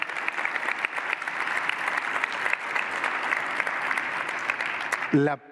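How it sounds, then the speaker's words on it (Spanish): An audience at the IAE Summit 2025 applauds Argentina's economy team during the economy minister's presentation, with loud sustained clapping that ends abruptly as a voice resumes. "me encanta que los aplaudan"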